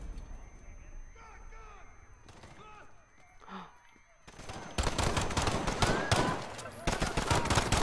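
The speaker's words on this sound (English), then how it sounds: "Shots fired" Gunfire in the Modern Warfare campaign, starting with sparse distant shots and shouting voices, then erupting midway into loud sustained automatic bursts that keep rattling to the end.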